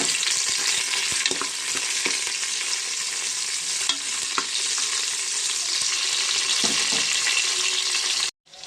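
Onions and green chillies frying in ghee in a pan, a steady close sizzle with faint stirring scrapes throughout, ending abruptly.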